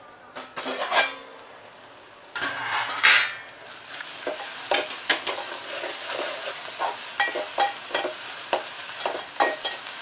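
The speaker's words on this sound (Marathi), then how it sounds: "कांदा आपण छान असा शिजवून घेऊया" Onion cooking in a pan for Maharashtrian peas curry, a steady sizzle under repeated spatula strokes scraping and clinking against the metal, loud and close.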